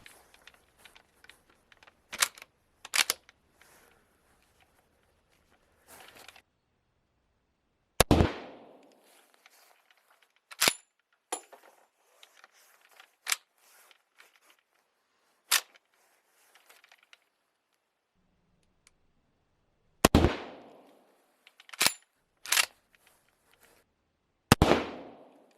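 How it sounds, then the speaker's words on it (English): An old Mannlicher straight-pull rifle from the World Wars is test-fired with untested loads in mixed brass. Several sharp, loud single shots crack out at irregular intervals, with quieter handling clicks and rustles in between. "The main issues encountered in firing the rifle were due to the untested load and the Frankenstein brass"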